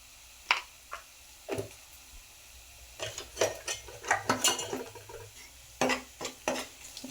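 Turmeric being stirred into mutton curry in a cooking pot, with scattered scraping and clinking strokes of a spoon against the pot, sparse at first and then clustering in quicker bursts over a low sizzle.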